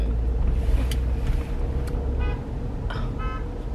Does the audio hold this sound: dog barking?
no